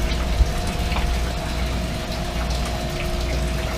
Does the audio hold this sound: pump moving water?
yes